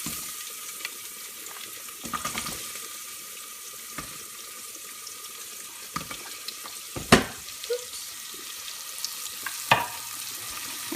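Carrots frying in oil with spices in a pan, giving a continuous hissing sizzle with occasional clinks and scrapes of stirring.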